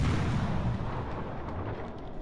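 Warship cannon fire in the World of Warships: Legends naval battle game, a heavy deep boom at the start that rumbles and slowly fades, with no voices.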